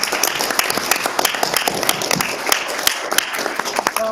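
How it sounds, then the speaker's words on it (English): Applause at a school board meeting for a junior high state championship team: steady, dense clapping from a room full of people that keeps up throughout without a break. "I think that deserves another round of applause"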